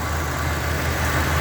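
A Lincoln Continental Mark VI car engine idles steadily close by, a low, even rumble with a hiss of broadband noise and nothing else over it.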